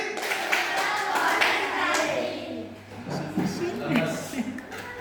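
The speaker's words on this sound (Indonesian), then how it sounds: "Tepuk konsentrasi." A school class in Lampung Tengah does rhythmic concentration clapping, with patterned hand claps mixed with children's voices and a teacher speaking, close and lively in a classroom.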